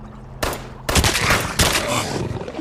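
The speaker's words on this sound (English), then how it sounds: "The gunshots echoed through the enclosed space" Gunfire in an enclosed space: three loud, sharp blasts spaced over a couple of seconds, each followed by a dense, booming echo that hangs and overlaps, with no voices.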